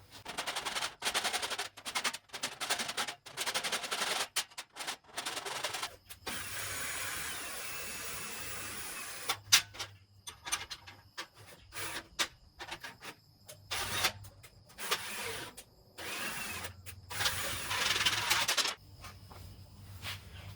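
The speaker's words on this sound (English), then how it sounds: "First, I'm going to file off the excess." Hand file working excess metal off the end of a threaded rod, heard as bursts of rapid rasping strokes with short pauses between them, fairly close, with no talking.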